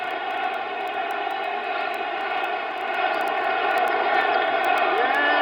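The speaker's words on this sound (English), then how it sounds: "Listen to the crowd." Dense crowd roar filling a baseball stadium, Yankee Stadium during the 1976 ALCS Game 5 between Kansas City and New York, a steady loud wash of many voices that swells slightly toward the end.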